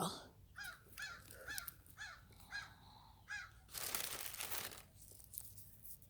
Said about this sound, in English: You hear the birds out here telling everybody